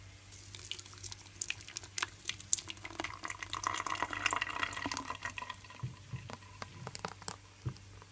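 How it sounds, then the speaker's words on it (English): Beetroot strawberry juice poured into a strainer, a close liquid splashing and trickling with scattered drips and pattering, steady and fairly quiet. "So now I'm gonna transfer my juice to my strainer."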